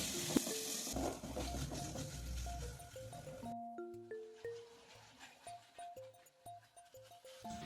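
Spices frying in oil in a pan for a fish and broccoli curry, stirred with a utensil: a steady close sizzle at first that drops away, followed by scattered scraping taps and clinks against the pan, with no talking.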